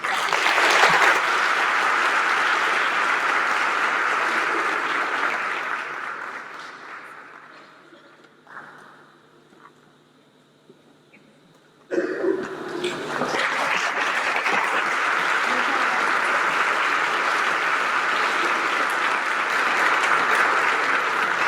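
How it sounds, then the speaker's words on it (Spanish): Audience applause at the opening of an ethics and probity congress, loud and sustained, fading out to near silence midway before a second full burst of clapping rises sharply and carries on to the end. "Un aplauso."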